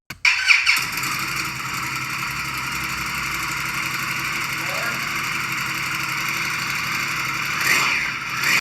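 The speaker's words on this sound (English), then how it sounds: "Versus a V-twin engine, which is the cylinders are split like this." A V-twin motorcycle engine runs at a steady idle close by, with a brief rev at the start and a slight swell near the end.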